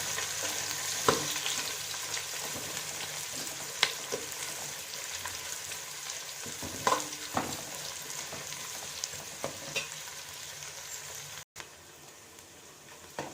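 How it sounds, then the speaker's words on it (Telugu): Onions fry until brown for bagara rice, a steady soft sizzle running throughout with occasional sharp scrapes and taps of a spoon against the pan, close but quiet, with no speech. "ఉల్లిగడ్డలు కొంచెం బాగా బ్రౌన్ కావాలి"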